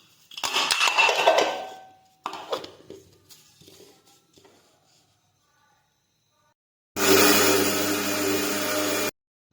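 A mixer grinder grinding one bowl of sesame seeds runs as a loud, steady whirring burst near the end, after earlier clinks and rattles of the seeds being poured into the jar.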